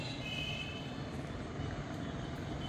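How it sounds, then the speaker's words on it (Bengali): Night traffic in the busy town of Jamalpur rumbles in a steady, distant wash of engines and passing vehicles, broad and unbroken with no single vehicle standing out. "যানবাহনের শব্দ শোনা যাচ্ছে"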